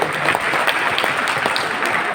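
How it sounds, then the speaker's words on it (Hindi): Audience applause at a training seminar, a dense steady wash of many hands clapping throughout, loud and continuous with no break. "ताली बजनी चाहिए इनके लिए"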